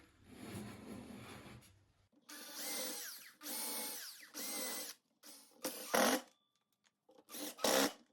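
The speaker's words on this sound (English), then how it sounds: "Again, pre-drill." A power drill whines in several bursts while pre-drilling wood, starting with a grinding stretch, then short revving runs separated by pauses, close and loud.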